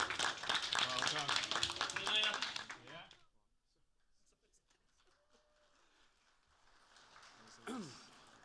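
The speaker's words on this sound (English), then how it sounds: "I'm sure we can manage a better round of applause than that" An audience at a 2018 sports presentation gives a round of applause, a dense burst of hand claps lasting a few seconds before fading into quiet room noise and scattered taps, with a voice speaking briefly.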